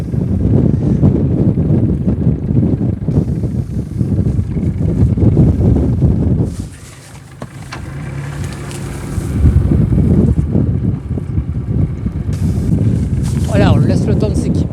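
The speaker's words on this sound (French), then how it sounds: "On ralentit le bateau." A boat easing off at sea during a man-overboard survival and recovery test, with loud wind and engine rumble that dips briefly mid-way before building again, while people talk over it.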